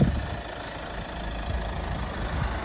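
An Opel Insignia B car engine idles quietly and evenly, a soft steady low hum with faint regular ticking and no speech.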